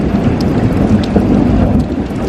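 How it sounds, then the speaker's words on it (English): Steady rain hissing close by with a low rumbling undertone like distant thunder, continuous and fairly loud throughout. "it's raining right now. Listen to this."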